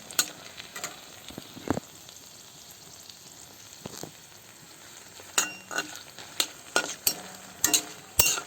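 Ground spices and dried black pepper frying in a pan, a soft steady sizzle under sharp scraping and clinking of a stirring spoon that grows busier toward the end, with no talk.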